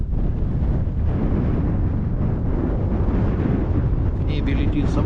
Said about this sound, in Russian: В небе летит самолетик.